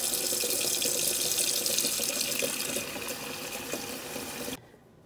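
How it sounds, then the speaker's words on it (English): Water from a kitchen tap pours steadily into a saucepan holding eggs, a loud close rush that softens slightly as it fills, then cuts off abruptly just before the end. "we're going to put our eggs in a saucepan and cover with water till they're"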